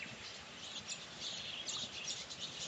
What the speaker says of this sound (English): How's the birds having a big feeding frenzy?